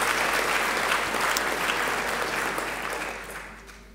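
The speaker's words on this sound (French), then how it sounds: "On peut aussi les applaudir." Steady applause from an audience at a graduation ceremony, a dense wash of clapping that holds for a few seconds and then gradually thins and fades.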